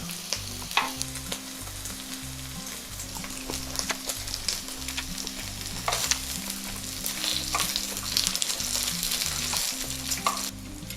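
Pork belly fries in a pan with a continuous crackling sizzle and scattered sharp pops, steady and close throughout, with no voices.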